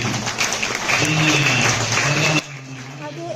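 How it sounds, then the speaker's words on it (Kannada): Loud applause from the audience at a Havyaka Mahasabha felicitation ceremony, a dense, steady roar of clapping for about two and a half seconds that cuts off abruptly into quieter room hum. "ತಾವೆಲ್ಲ ಜೋರಾದ ಚಪ್ಪಾಳೆಯ ಮೂಲಕವಾಗಿ"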